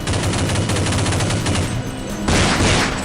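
Automatic gunfire in the video game Counter-Strike rattles off in rapid, loud, continuous bursts, with a brief break before another heavier volley.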